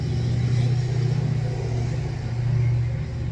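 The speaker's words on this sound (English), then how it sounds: "Let that big giant car go by." A large car rolls past on a busy street, a loud steady engine rumble that swells and holds close by for the whole stretch, with no voices over it.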